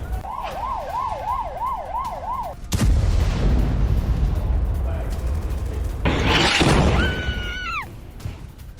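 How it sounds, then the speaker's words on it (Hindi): Israeli airstrike bombardment on Hezbollah sites in southern Lebanon and the Bekaa Valley: a wailing siren gives way to a loud, sustained roar of blasts and rumble, then a second surge of crashing noise with descending whistles. "हिजबुल्लाह के 220 ठिकानों में भीषण बमबारी, रॉकेट लॉन्चर, हथियार डिपो किए तबाह।"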